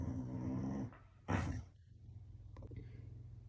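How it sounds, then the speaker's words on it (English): A dog growls and whimpers while trying to play, a low rumbling vocal that fades into a steady low hum, with a short breathy burst in the middle and faint soft sounds near the end. "My dog's trying to play with me."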